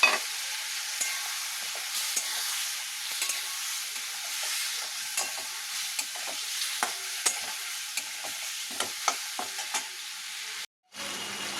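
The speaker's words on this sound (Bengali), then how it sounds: "এই যে মশলাটা টমেটোটা দিয়ে দেবো দিয়ে একটু কষাবো" Spices, tomato, potato and carrot sauté in oil in a pan, giving a steady soft sizzle with repeated sharp scrapes and taps of a stirring spoon, close and moderately quiet, with a brief dropout near the end.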